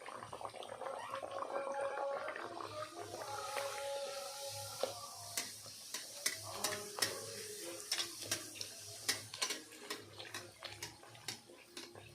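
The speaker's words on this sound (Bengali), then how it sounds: "এক এক করে আমি সব ভেজে নেবো" Stuffed kachori deep-fry in hot oil with a close, busy sizzle and bubbling, then scattered sharp crackles and pops as the frying continues, with no talk.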